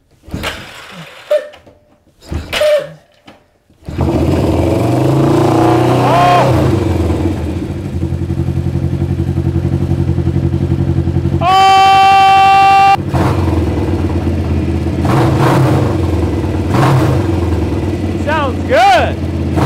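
A Yamaha XS500 motorcycle with the choke on cranks and catches, then settles into a loud, steady idle with occasional blips of revving, while a person talks nearby.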